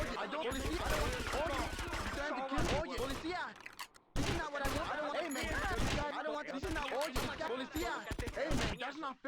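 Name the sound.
gunfire in Grand Theft Auto Vice City video game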